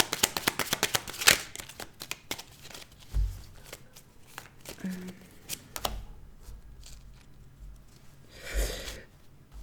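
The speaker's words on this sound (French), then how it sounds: "Je vais retirer une carte pour être sûre." Tarot cards pulled and shuffled from a deck, a quick run of light papery flicks and slaps up front, then scattered soft card handling sounds spaced apart, close and fairly quiet with no talk.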